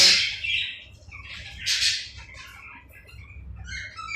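Budgerigars squawk and chatter in a home aviary, with several harsh, close bursts of calls separated by quieter gaps and a low background rumble, no speech.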